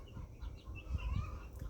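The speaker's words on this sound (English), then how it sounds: "we got crazy hens laying eggs" Hens clucking in a backyard flock near a tomato garden, soft repeated low clucks running throughout at moderate distance, with faint higher bird calls above.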